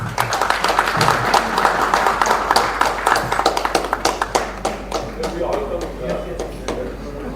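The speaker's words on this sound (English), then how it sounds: "we all of us should give a big round of applause to him" Audience at the inaugural ceremony of a green bio expo giving a round of applause, many hands clapping in a steady crackling patter, close and loud, thinning toward the end while a voice talks through it.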